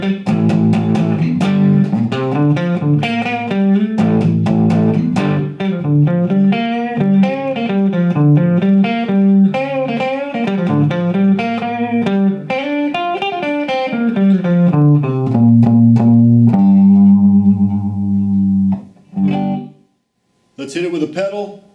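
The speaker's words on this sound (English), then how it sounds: "Now for some low volume distortion." An electric guitar plays low-volume distorted chords and single notes through an Emery Sound Microbaby 1-2 watt tube amp, loud and close for about twenty seconds, then a short pause before a final struck note.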